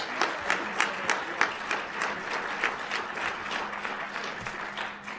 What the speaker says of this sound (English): one more round of applause for all they've done